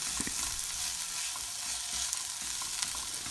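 Onions frying with ginger-garlic paste in a pan for a Kerala mutton fry, giving a steady close sizzle with a few faint stirring clicks and no voices.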